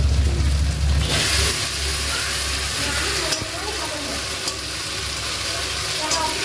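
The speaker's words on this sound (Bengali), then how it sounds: "কাঁচা লঙ্কা বাটাটা যদি তেলের উপরে দিই তাহলে ভালো হয়" Green chilli paste dropped into hot oil in a pan for a Bengali koi fish and cabbage dish, a loud hissing sizzle bursting up at once and continuing steadily, close by.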